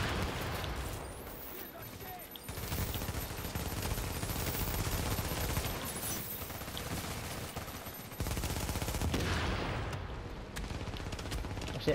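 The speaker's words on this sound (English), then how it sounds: "They are shooting the people." Video game gunfire during a multiplayer fight, a dense, continuous barrage of rapid shots and bursts layered with mechanical clatter, loud and sustained throughout.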